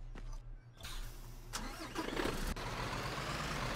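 Garbage truck engine in the Cityconomy video game cranks and catches, then settles into a steady, close mid-range rumble with a low droning hum underneath.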